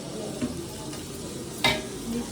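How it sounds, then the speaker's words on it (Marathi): Onion poha cooking for breakfast in a pan, a soft steady sizzle with occasional scraping stirs and a sharp clink of a utensil against the pan midway. "बघतो तर कांदा पोहे मस्त चालू आहेत नाश्त्यासाठी"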